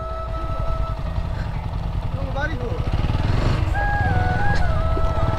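A motorcycle engine drones steadily as the bike is ridden along a rough path through fields near the Padma river bank, with the engine running throughout beneath people talking.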